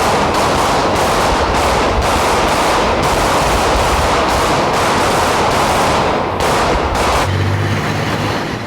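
Dense, continuous rapid gunfire at a police shooting range fills the clip, a loud sustained barrage of overlapping shots with no pauses and no voices.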